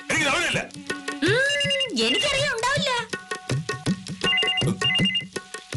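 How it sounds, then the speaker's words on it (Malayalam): A telephone rings with a repeating electronic melody at home, the tones recurring in short bursts while a person speaks over part of it. "ഫോൺ ബില്ലടിക്കുന്നു, ഒന്ന് പോയി എടുക്കൂ."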